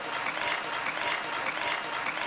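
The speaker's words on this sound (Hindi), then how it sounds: "जोरदार तालियां एक बार" An audience at a Hindi poetry recital breaks into loud applause, a dense, even wash of many hands clapping for a couple of seconds.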